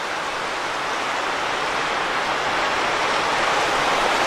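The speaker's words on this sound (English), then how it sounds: "Waterfall." A waterfall on Octoraro Creek beneath a covered bridge gives a steady, broad rushing roar, constant and close, with no talking over it.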